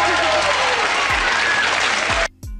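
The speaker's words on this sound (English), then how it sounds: "the audience composed only of women starts clapping" Applause from an all-female audience at a talk on feminism, a dense sustained clapping that fills the room and then cuts off near the end, with a brief burst after.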